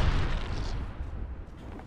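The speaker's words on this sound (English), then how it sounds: "look out, grenade." Grenade explosion in a first-person shooter video game, a deep loud boom with a rumbling low-end tail that fills the short moment close by, without speech.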